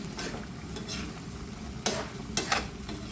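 Squid and pork belly adobo with carrots simmering in a pot: a low bubbling sizzle underneath, with two sharp utensil knocks against the pan near the end.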